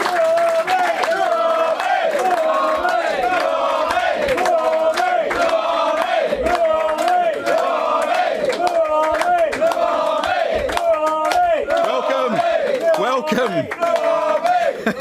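An arena crowd chants loudly in a rhythmic, repeated pattern, many voices singing together with steady cheering throughout.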